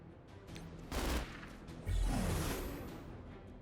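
Gunfire attack with sweeping whooshes in the mobile game Marvel Strike Force, two fairly loud bursts each fading into a lingering rush, with no talking.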